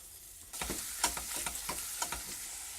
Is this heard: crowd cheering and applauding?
no